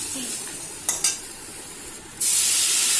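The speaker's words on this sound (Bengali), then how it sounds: "দিয়ে আবার একটু নাড়াচাড়া করে নিলাম তেলের মধ্যে" Raw banana pieces with cumin and coriander powder are stirred in hot oil in a pan, with a few soft scraping strokes before a loud hissing sizzle surges up and holds steady.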